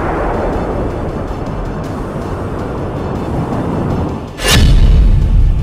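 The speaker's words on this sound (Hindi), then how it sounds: "धमाका नंबर 1" A continuous low roar rumbles, then a sudden loud missile explosion bursts near the end, its deep boom lingering.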